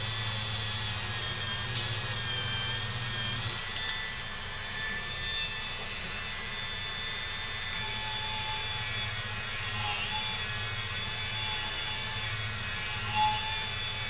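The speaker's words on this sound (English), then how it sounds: "I'm going to load this Dremel polisher back up, and I'm going to polish the heck out of the extractor tip." A Dremel rotary polisher runs on a Mosin Nagant extractor tip, giving a constant, close high-pitched whine with a low hum beneath it and slight shifts as the part is worked, with no talking.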